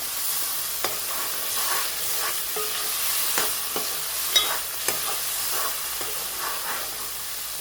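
Masala slowly cooking in a pan, a constant close sizzling hiss with occasional sharp ticks and scrapes from stirring.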